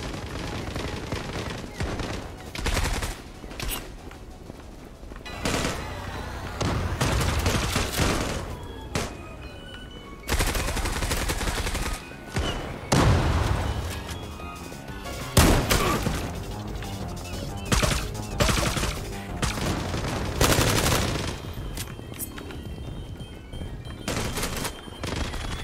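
Zula Europe shooter game gunfire comes in dense bursts of rapid automatic shots and single cracks, loud and frequent across the clip, with brief quieter gaps.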